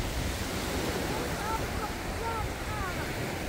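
Ocean surf at Long Bay Beach in Antigua, a steady broad wash of waves mixed with wind rumble on the microphone, continuous and fairly loud throughout.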